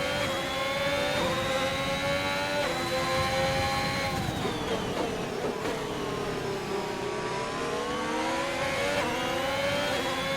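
Racing car engines in a video game race at the Hungary circuit, including a Ferrari, a continuous loud high-pitched engine whine whose pitch rises and dips through gear changes and corners, with no voices.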